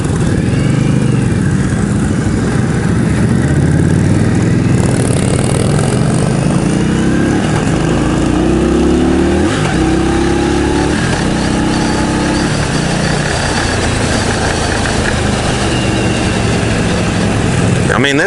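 An Indian Scout cruiser motorcycle engine roars loudly and continuously, rising and shifting in pitch as it accelerates, with steady wind noise.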